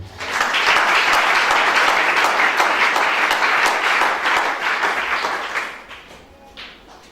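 A church congregation applauds during a sermon, a dense, loud wash of clapping from many hands that holds steady for several seconds and then thins and fades.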